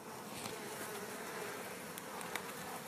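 A dense, continuous hum of many honeybees buzzing close by inside a hive, steady and soft, with no voices.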